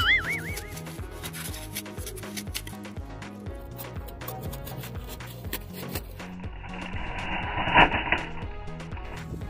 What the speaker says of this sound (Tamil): நம்ம எக்ஸ்பெரிமெண்ட் பண்ணுறதுக்காக தெர்மாகோலை தேவையான அளவுக்கு நம்ம கட் பண்ணிட்டு இருக்கோம்